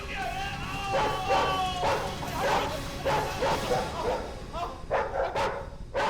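A dog in an Indian TV crime drama scene barks repeatedly in loud, close yips and woofs, roughly one bark every half second, while people shout and argue over it.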